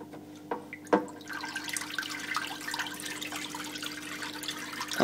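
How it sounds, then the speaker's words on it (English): Water streams steadily from the outlet of an All Pond Solutions 2000EF+ external pond filter, a strong continuous splashing flow with a couple of brief knocks near the start. "I'll show you the flow rate, and you'll be quite surprised how strong it is."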